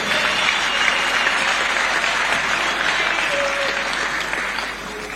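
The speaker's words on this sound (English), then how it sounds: "May we clap for all our fallen heroes." A crowd claps in sustained unison at a UPND political party assembly in Zambia, dense and loud applause that holds steady before easing slightly toward the end.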